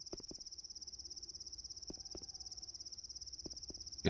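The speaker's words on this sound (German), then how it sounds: "Jetzt hört man die Grillen gut grillen." Crickets chirp steadily in the video game Odyssee, a fast, even high-pitched trill running throughout, faint and close, with a few soft clicks and thumps from gameplay.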